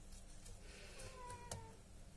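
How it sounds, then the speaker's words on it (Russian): A house cat meows in a short, faint, drawn-out call at close range, with quiet room noise around it. "Кот, ты-то чё орёшь?"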